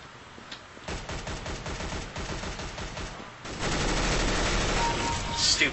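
Rapid automatic gunfire in the video game Counter-Strike: Global Offensive, dense bursts of shots running almost nonstop, growing louder and fuller midway, close and loud with no talking.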